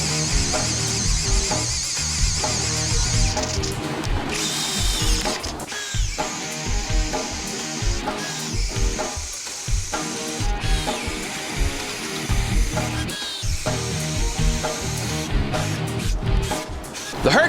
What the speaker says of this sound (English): The Hyper Tough stalls out on speed setting 2, but it is able to drill a respectable hole